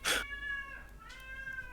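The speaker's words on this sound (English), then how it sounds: "Cat." A cat meows in one drawn-out, wavering call after a brief burst of noise, faint and alone in a quiet room.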